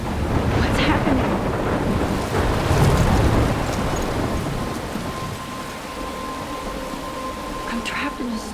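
A thunderstorm rages in Life is Strange, heavy rain hissing steadily with a loud rolling thunder swell, gradually easing, with no talk over it.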